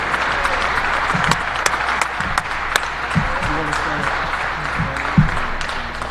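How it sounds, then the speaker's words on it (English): A crowd applauds steadily at the introductory press conference for a new Hofstra men's basketball head coach, sustained clapping filling the room with a few brief voices rising underneath. "Let's have one more round of applause for the 13th head coach in the history of the Hofstra men's basketball program, Speedy Claxton."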